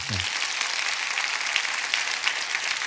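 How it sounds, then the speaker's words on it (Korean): Broad, sustained applause from a large church congregation fills the space, an even wash of clapping that carries on for a few seconds. "저희가 드릴 수 있는 가장 큰 박수로 하나님께 영광 올리도록 하겠습니다"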